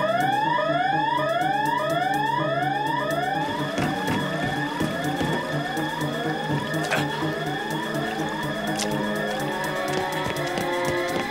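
A cartoon alarm siren wails in a steady loop of rising sweeps, loud and continuous, blaring nonstop from start to finish.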